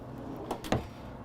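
A pull-out drawer in the living quarters of a 2021 Logan Coach Select 810 three-horse trailer slides and bumps shut, two quick close knocks over a low steady background hum.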